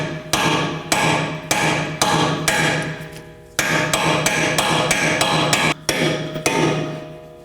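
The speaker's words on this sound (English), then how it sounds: "I'll be using an impact driver with a T30 bit and a hammer." Hammer blows on an impact driver fitted with a T30 bit, working loose a brake rotor set screw on a 2018-2024 Chevrolet Equinox: a steady series of sharp metallic strikes, roughly two per second, close up with brief pauses.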